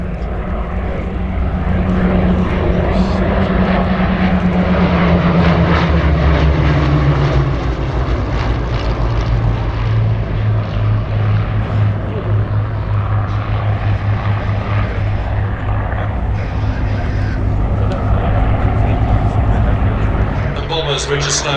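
Hawker Hurricane propeller fighter flying at an airshow, its steady engine drone loud and continuous throughout, with shifting pitch as it passes and a commentator talking over it.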